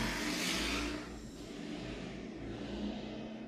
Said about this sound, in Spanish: una moto. Es que no he cerrado la ventana hoy porque me muero.